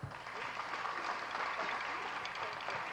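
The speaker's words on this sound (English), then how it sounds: "please give them all a lot of applause" Audience applause at the Miss Universe 2009 National Costume Competition, a broad, even wash of clapping from a large hall holding steady for three seconds with faint voices underneath.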